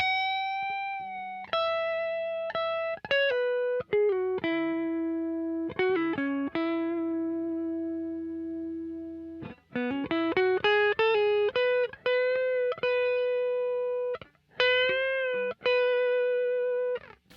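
Clean electric guitar notes and short phrases are routed through a Boss ES8 effects switcher, ringing and sustaining with clear gaps between runs, played alone with no talking.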